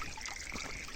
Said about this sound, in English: here's the leaking water coming right out of the wall here